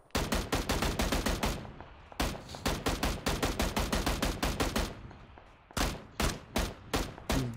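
Rapid bursts of automatic gunfire in the video game PUBG, loud, close and sharply repeated in long strings with a short pause between volleys, then a few slower spaced single shots near the end.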